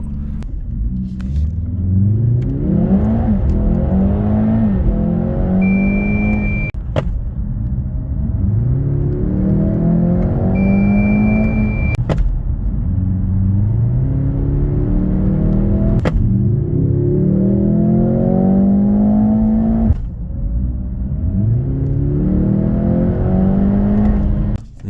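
Mercedes-AMG GLC 63 S, a hybrid SUV, accelerating hard through repeated gear changes, its engine note rising in sweeps and dropping at each shift, loud and close throughout.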